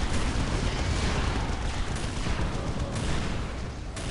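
Rapid autocannon fire mounted on a Warrior of the Omnissiah in the real-time strategy game Warhammer 40,000: Dawn of War, a dense, loud, continuous barrage of overlapping shots and booms with no pauses and no talk.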